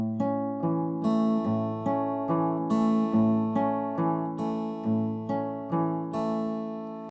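Fingerpicked acoustic guitar playing the pattern for a song, a steady flowing run of plucked notes with alternating bass and higher treble strings ringing together, close and unaccompanied.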